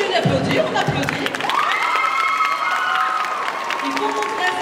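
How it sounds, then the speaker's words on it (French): Audience applause and cheering at a manga festival costume contest on stage, a dense continuous wash of clapping with crowd shouts, with an amplified voice or music tone rising partway through. "Continue d'applaudir, on applaudit."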